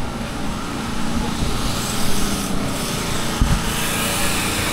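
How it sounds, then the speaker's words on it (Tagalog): A steady engine drone runs throughout, a constant mechanical hum with broadband noise and no clear speech, like a generator running nearby. "May generator pa oh"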